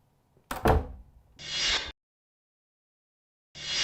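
A room door in a home thuds shut with a sharp knock-like impact, followed by a longer scraping swing and another similar sound starting after a short silence.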